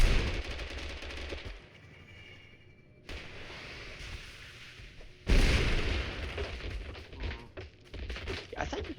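A grenade explodes in the video game Totally Accurate Battlegrounds: a loud sudden blast followed by dense bursts of gunfire and rumbling booms, heavy and continuous in the game mix.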